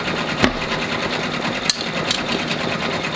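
An embroidery machine stitches a logo on a business shirt, its needle chattering in a fast, steady rhythm at close range, with a few sharper knocks.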